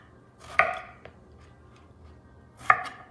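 Eggplant being cut on a cutting board: two sharp, well-spaced knife chops with a faint tap between them, close by and otherwise quiet.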